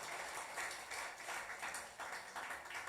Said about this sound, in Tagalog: Malakas na palakpak para sa ating Panginoong Diyos.